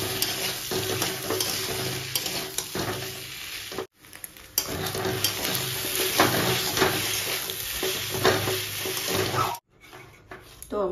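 Egg frying with Maggi masala in a pan while being stirred, a continuous close sizzle broken by scraping strokes and two brief drops to near silence, with faint running water in the background.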